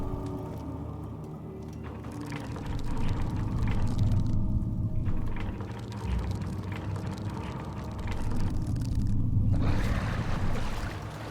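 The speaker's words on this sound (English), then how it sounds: "I hear water." Running water in the dark castle of Amnesia: The Dark Descent, a low, rumbling flow with sloshing swells that rise and fall steadily under an eerie ambient drone.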